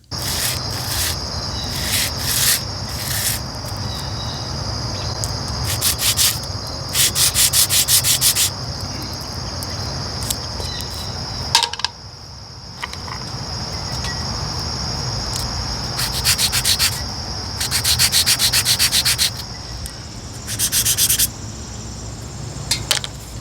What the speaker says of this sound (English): With the valve parts broken down, the top buttons can be sanded, resurfaced, and refaced with new leather.